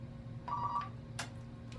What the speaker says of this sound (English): Here we go with a phone call.